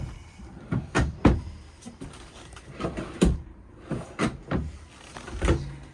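Drawers and cabinet doors in a Forest River Rockwood Ultra Lite travel trailer are worked repeatedly, giving a series of close wooden knocks, slides and bumps scattered irregularly across several seconds.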